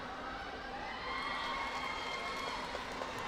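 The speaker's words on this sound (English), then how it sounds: "They're cheering the teams on, they're dancing" Filipino fans cheer at a SEA Games netball match at the Santa Rosa Sports Complex, a steady, distant crowd roar with shouts rising slightly partway through and no clear talk.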